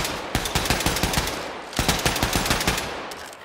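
Heavy weapon fire in Wolfenstein II: The New Colossus, two sustained loud bursts of rapid automatic shots with a brief gap between them, close and dominant, with no talk.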